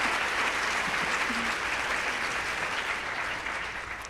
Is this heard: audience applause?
yes